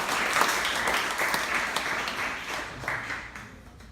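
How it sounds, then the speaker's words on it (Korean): An audience at a patriotic forum in Chicago claps in a dense, steady burst of applause. It stays fairly loud for a few seconds, then fades toward the end. "여러분 박수 한번 주십시오"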